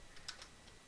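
A few quick, light clicks of fingers typing on a computer keyboard, close and fairly faint in a quiet room.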